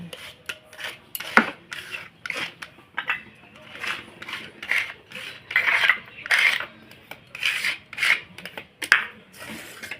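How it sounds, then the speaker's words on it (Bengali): Chili and ginger are ground by hand on a grinding stone, making steady, rhythmic rasping and scraping strokes that repeat close by at a moderate level. "তারপরে লঙ্কাটা আর আদাটাকে ঘষে"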